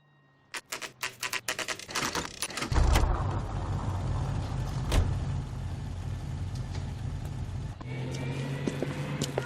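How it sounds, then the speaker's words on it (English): In L.A. Noire, a car pulls out of a driveway: rapid clicks give way to a loud engine roar that holds steady, then eases into a lower running rumble near the end, with no talk. "That's the car, Cole. Just pulling out of the drive."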